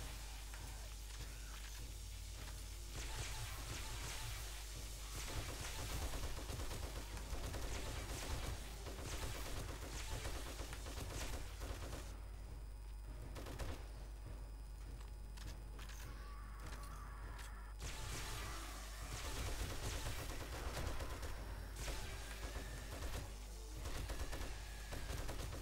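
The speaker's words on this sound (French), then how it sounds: "Alors j'utilise des balles perforantes, c'est-à-dire qu'elles peuvent toucher un deuxième ennemi derrière." Sustained rapid gunfire with armor-piercing rounds in the zombie survival game 7 Days to Die, dense bursts of shots rattling almost continuously over a low rumble, with brief lulls before the firing resumes loudly.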